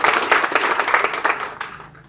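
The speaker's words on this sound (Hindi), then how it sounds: "मोहित के लिए भाई तालियां बजा दो एक बार।" Audience clapping at a political gathering, a dense, steady burst of applause lasting about two seconds before tapering off.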